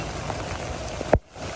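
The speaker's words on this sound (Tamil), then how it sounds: "கொட்டுதா மழை கொட்டுது வெளுத்து வாங்கியது மழை" Heavy rain pours down in Jaffna, a steady, dense hiss of water on surfaces that continues throughout and drops out sharply for a moment near the end.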